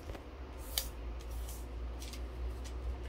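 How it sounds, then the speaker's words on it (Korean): Paper divided into thirds is folded for origami, giving quiet, close, crisp rustles and a few sharp creasing snaps against a faint background hum. "여기 3등분 한 거를 이렇게 접어줍니다"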